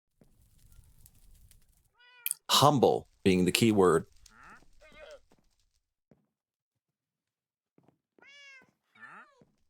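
Cats meow in the Minecraft video game, a few short high mewing calls later in the clip, heard after a stretch where a person speaks.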